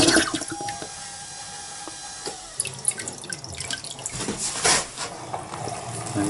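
Sanimarin pump-out toilet on a narrowboat running, with watery rushing, gurgling and dripping close by. It starts with a faint steady tone, then swells into louder splashing near the end.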